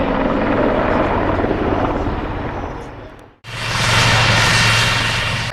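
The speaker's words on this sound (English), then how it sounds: "The very first roll by a helicopter that you may have seen this year." Helicopter performing a roll at the Cosford Airshow 2013, a loud rotor and engine roar that swells, briefly drops away to near silence, then returns strongly.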